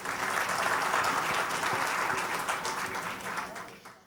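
An audience at a live music concert applauds after a song, a dense steady wash of clapping from a crowd that slowly fades out toward the end.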